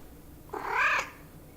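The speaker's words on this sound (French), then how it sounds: "tu miaules, tu t'étouffes en miaulant." A single cat meow, a short rising-then-falling cry lasting about half a second, fairly close and clear against quiet room background.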